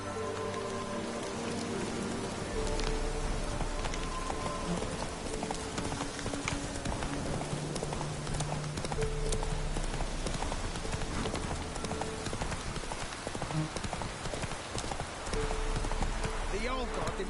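Horse hooves clip-clop steadily on the ground in The Witcher 3 while rain patters throughout, and voices speak intermittently over the sounds.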